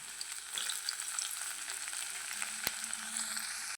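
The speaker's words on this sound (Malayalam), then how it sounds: "കടലപ്പരിപ്പ്, വെളുത്തുള്ളി, ഇഞ്ചി ഇവയെല്ലാം നമ്മൾ ഒന്ന് നന്നായിട്ട് ഇളക്കി അത് ഒരു കിലുകില ശബ്ദം ആകുന്നിടം വരെ" Chana dal, garlic, ginger and fenugreek frying in oil in a pan for curry leaf pickle, giving a steady, close sizzle with soft stirring scrapes and a single sharp clink near the end.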